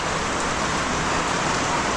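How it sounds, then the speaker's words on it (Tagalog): Steady rain falling in a continuous broadband hiss, with dense patter on surfaces around a house and no break, fairly loud and close with no voices over it. "Ulan-ulan na po dito."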